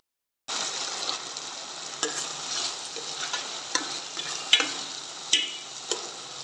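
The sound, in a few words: ginger garlic paste frying in oil for chicken curry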